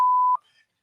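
A single loud censorship bleep, a steady pure tone about a third of a second long, masking a word, followed by a faint trailing hiss and then silence.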